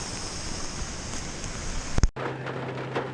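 Steady, dense rain hiss close by, cut off abruptly by a loud thump, then quieter muffled patter with a low hum.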